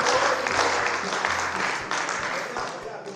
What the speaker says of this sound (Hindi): ताली बजाओ मिलके सारे